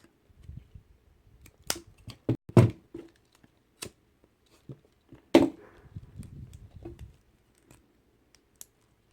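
Scissors snipping the cord of a clover kandi bead bracelet, a few sharp close clicks and snips scattered among soft handling rustles in a quiet room.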